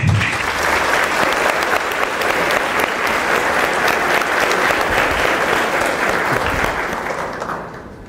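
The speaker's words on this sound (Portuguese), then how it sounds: "Uma salva de palmas." A hall audience at an astronomy study centre event gives sustained applause welcoming an amateur astronomer and teacher, thick and even before tapering off at the end.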